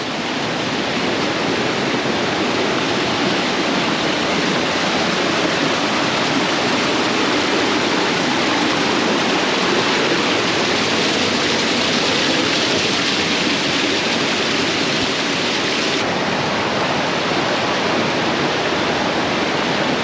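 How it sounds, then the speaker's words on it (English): Small waterfalls and streams rush through Sunol Wilderness in spring, a loud, steady, broadband roar of flowing water that holds unbroken throughout with no voices. "So many little waterfalls and streams."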